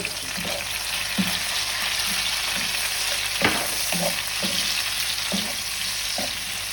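Chopped white onion, garlic and tomato with seasoning sizzling in a pan for Jamaican ackee and corn pork, a steady close sizzle broken by regular stirring scrapes and clinks.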